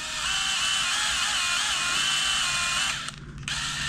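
A power drill setting a rivnut in a van build whines steadily with a high tonal pitch that wavers slightly, then briefly cuts off near the end before spinning up again.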